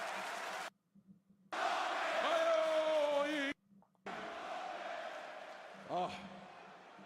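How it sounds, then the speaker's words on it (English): A loud wrestling arena crowd at a SmackDown event in Montreal roars and cheers in sustained bursts, broken by abrupt silent gaps, with a rising shout and whoops standing out over the din. "that crowd is so loud, you ain't gonna be able to do nothing but blank that out"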